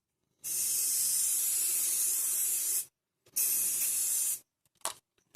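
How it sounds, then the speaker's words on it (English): An aerosol hairspray can sprays in two long hissing bursts separated by a short pause, followed by a couple of quick short puffs. "I'll spray a load more Hairspray on there"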